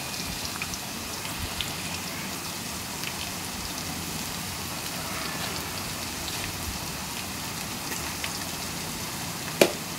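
Onions frying in a pan, a steady dense sizzle and crackle throughout with one sharp pop near the end, and no talk.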